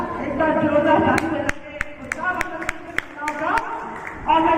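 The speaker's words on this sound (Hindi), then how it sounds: "एक बार जोरदार ताली" Scattered, irregular hand claps from the audience of a BJP women's wing meeting in Dholpur, Rajasthan, break out over a woman's speech before her talking resumes.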